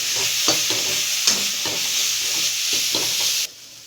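Spices and tomato stirred in a hot frying pan for palak paneer, with a steady loud sizzle and repeated spoon scrapes against the pan, no voices, until the sizzle drops away abruptly near the end.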